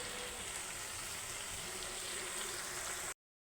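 Prawns searing in a pan of oil with vegetables, a steady dense sizzle and crackle that stays even and close throughout, then cuts off abruptly near the end.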